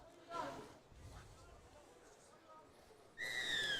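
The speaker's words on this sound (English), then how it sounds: "that's the whistle, and we're away." Referee's whistle blowing to start a junior rugby league match between the Rabbitohs and Bulldogs, a sharp, loud double-toned blast arriving after stretches of commentary and crowd murmur.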